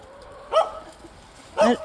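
A dog barks twice, short sharp yips about a second apart, fairly close against a quiet background.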